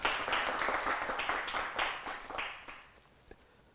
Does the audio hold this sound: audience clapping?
yes